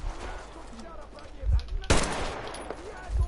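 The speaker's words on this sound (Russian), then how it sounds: "Короче, это бандюганы, да? И сейчас они будут по нам шмалять" Bandits firing at the player in Metro Exodus: one sharp gunshot cracks out amid low, muffled thuds and distant shooting, with a faint voice underneath.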